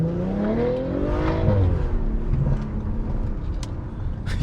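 A tuned Audi B9.5 RS5 with a Stage 1 tune pulls hard under acceleration, its engine note rising in a strong continuous sweep close by, then settling into a steady roar with road noise.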